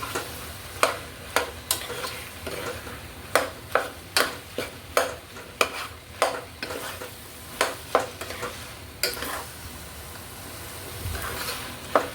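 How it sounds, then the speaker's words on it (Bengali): A spoon scrapes potatoes and spices around a pan in a steady rhythm of about a dozen sharp strokes over a low sizzle, close and clear, with no speech. "এভাবে ভালো করে নাড়তে থাকবো সবগুলো মিশিয়ে নিব আলুর সাথে"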